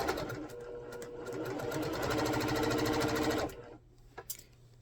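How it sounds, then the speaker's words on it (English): A sewing machine stitches quilt sashing in a fast, steady rattle for a few seconds, then stops, leaving faint clicks and quiet handling noises. "So I'm over here at the sewing machine. I'm going to start sewing these down one column at a time."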